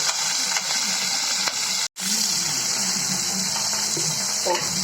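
Onions and green chilies fry in oil for a Chettinad green chili mandi, giving a continuous, even sizzling hiss up close, broken by one short silent gap, with faint talk underneath.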